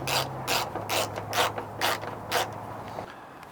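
A ratchet tightens bolts on a vehicle water reservoir, about six quick clicking strokes in a steady rhythm, close and fairly quiet, with a faint creak and hum beneath.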